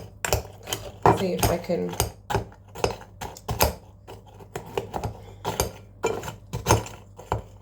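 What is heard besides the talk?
spoon smashing Halloween snacks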